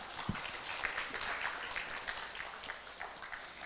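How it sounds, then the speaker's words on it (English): Audience applause at an international research symposium, a steady wash of many hands clapping at moderate distance with no talk over it. "Once again, let's give them a big round of applause."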